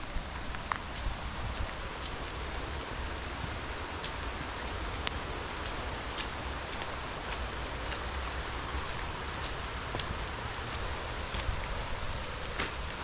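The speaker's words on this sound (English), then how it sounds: "you can hear the rain hitting the rocks and bouncing off the leaves" Rain patters steadily on rocks and leaves on a hiking trail near Chamonix, France, a soft continuous hiss dotted with sharper drips and taps, with no voices.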